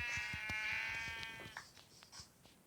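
Sheep in a video game bleat in a short burst: one clear, sustained bleat up front followed by a few shorter, fainter cries amid small clicks and game noises.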